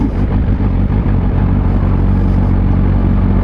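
A 2020 Kawasaki Z H2 hyper-naked motorcycle, a 200 PS bike, rumbles steadily on the move, a loud continuous engine roar with wind noise as it rides off smoothly.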